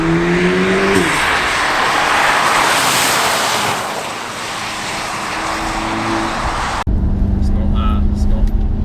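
A 407 bhp Audi S3 saloon accelerating hard, with a sustained loud engine and road roar heard from inside the car, then a sudden cut to a quieter cabin where people talk.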